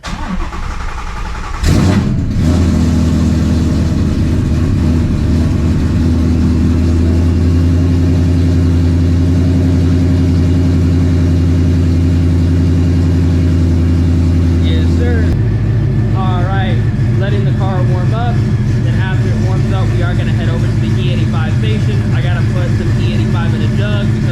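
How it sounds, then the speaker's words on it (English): A supercharged Shelby GT350's engine cranks and catches on a cold start, then settles into a loud, steady idle with a rise in revs partway through, heard up close. "let's get a little cold start"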